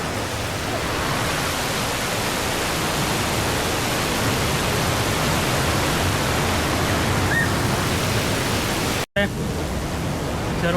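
Zarvani waterfall in Gujarat roars as a loud, steady broadband rush of falling water, close and unbroken for about nine seconds, then cuts abruptly before resuming briefly.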